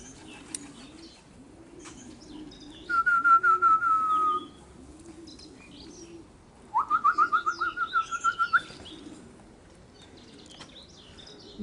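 Homing pigeons at their loft after a 70 km training flight give two bursts of rhythmic, pulsing calls, each lasting a second or two, over steady low cooing and faint background birdsong.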